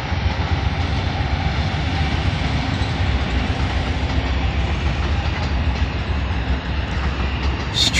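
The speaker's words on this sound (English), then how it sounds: "This train is running." Amtrak train #6, a passenger train at West Sacramento, rumbles past at close range as a loud, steady roar of wheels and engine noise that fills the whole stretch without letting up.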